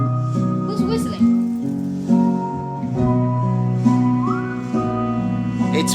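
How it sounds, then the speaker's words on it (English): Someone whistles a tune in short melodic phrases, fairly close and clear, over music with singing in the background. "Who's whistling?"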